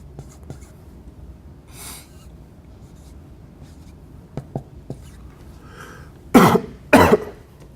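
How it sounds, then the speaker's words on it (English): Faint scratching and small taps in a quiet room, then two loud, harsh coughs close by near the end. "Can't seem to kick this cough."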